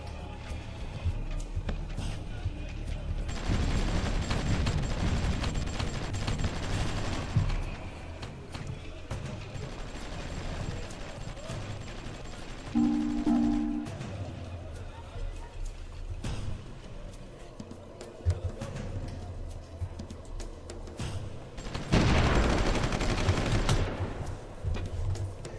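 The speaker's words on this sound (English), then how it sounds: "Don't know how our artillery got behind them." Artillery and gunfire rattle in the war strategy game Supreme Ruler Ultimate, with bursts of rapid shots and louder volleys around the start, middle and end, between quieter stretches.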